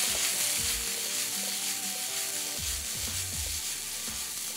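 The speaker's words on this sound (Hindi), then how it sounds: "और उसके अंदर डालेंगे तुरई। और इसको एक बार मिक्स कर लेंगे।" Ridge gourd fries in a pan for a Bengali shukto, a loud continuous sizzle with rattling scrapes as the pieces are tossed and stirred, close up.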